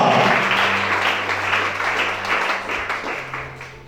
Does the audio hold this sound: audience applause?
yes